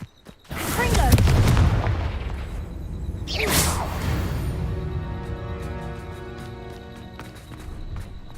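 A Confringo explosive curse in Hogwarts Legacy goes off as a loud whooshing blast with a booming low rumble, a second burst follows, and crackling game effects trail away behind.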